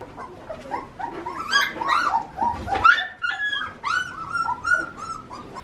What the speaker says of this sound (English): Not sure if there's anything cuter than a box full of puppies.